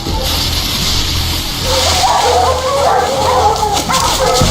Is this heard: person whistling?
no